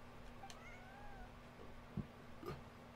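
A cat meows in a video game, a short high mewing call followed by two brief louder meow bursts near the end, faint and alone against a quiet background hum.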